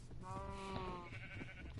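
Sheep bleating in the video game Minecraft, a single drawn-out wavering bleat at moderate volume over a low, steady background hum.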